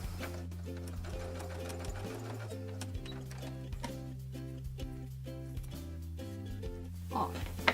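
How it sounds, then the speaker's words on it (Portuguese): A sewing machine runs a straight seam along bias tape, its needle hammering in a fast, even mechanical rhythm, close and steady for the whole stretch, with a brief pause near the start and no talk. "E aí eu passo a costura reta até terminar"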